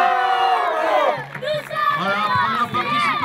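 Crowd celebrating an Olympique de Marseille victory at a youth Champions League tournament, loud, close cheering and shouting voices, with children's whoops and chanting over the din.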